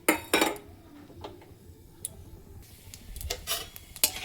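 Whole-spice tempering of radhuni, panch phoron and dried red chilli is stirred in a pan for bottle gourd curry, producing scattered light clinks and scrapes of a spoon against metal, close but quiet.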